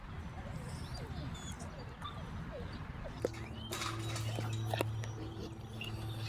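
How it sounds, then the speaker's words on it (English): A dog yips and whimpers in short bursts in a children's alphabet song, alongside hoof-like clip-clop clatter, with voices talking over the sounds. "Dog."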